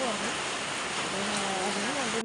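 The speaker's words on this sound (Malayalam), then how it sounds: "പെട്ടെന്ന് നല്ല മഴ നല്ല ശക്തിയുള്ള മഴയായിരുന്നു" Dense, loud hiss of heavy rain pouring down steadily, with a faint voice-like tone drifting underneath.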